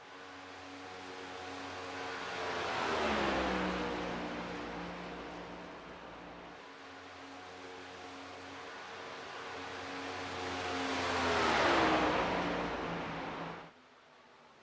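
A sim race car laps Talladega during league qualifying in a racing video game. The engine drone swells and fades twice as the car passes, fairly quiet, with no talk.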